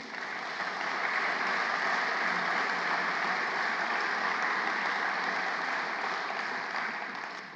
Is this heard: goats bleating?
no